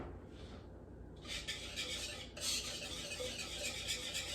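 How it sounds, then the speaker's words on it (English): Dry pancake ingredients, flour and salt, being whisked together in a bowl: a steady scratchy stirring that grows louder after the first second and keeps going without pause. "We're going to whisk them"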